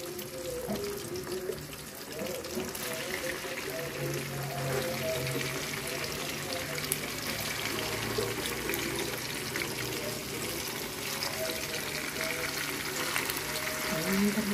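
Tofu, boiled first, fries in a pan with a steady, even sizzle and hiss that runs close and constant throughout, with no pauses or sharp pops.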